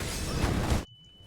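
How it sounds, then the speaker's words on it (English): A flashbang grenade thrown in a Source engine shooter lands with a loud, broad burst that fills the first part, then cuts off abruptly into near silence with a faint lingering ringing tone. "Throwing flashbang."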